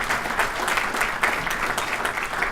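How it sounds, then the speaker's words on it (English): An audience at the 2018 State of the Region event applauds Terry, a congressman's wife, with a moderate, steady patter of clapping from many hands in a hall. "Give her a big round of applause also."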